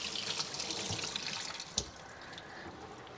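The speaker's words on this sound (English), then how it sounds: "I'm going to move these but I'm going to wash them because I was close to the onion." Tap water runs steadily into a kitchen sink while vegetables are rinsed under it, a soft continuous splashing hiss with one brief knock partway through.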